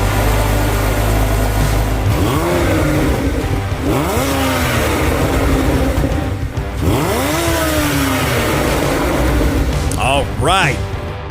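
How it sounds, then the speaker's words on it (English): A car engine revs repeatedly in rising, swooping bursts, each climb in pitch falling back before the next, loud and close against a steady droning background, with a few quick higher revs near the end. "send those car sounds into the show"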